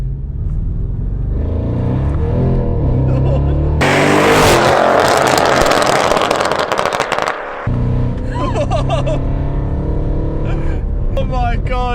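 An Audi R8 engine in sport mode roars loudly as it accelerates hard for several seconds, then drops off; people talk and exclaim before and after.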